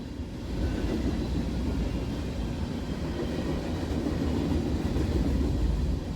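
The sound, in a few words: empty rubbish train rolling by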